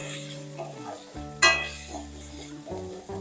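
Chopped onion and tomato stirred into hot mustard oil, a steady close sizzle with soft scraping stirs and one sharp utensil clatter partway through, for a prawn and ridge gourd mash.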